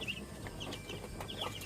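Backyard chickens clucking softly at a distance, with faint, scattered calls over a low, steady background noise.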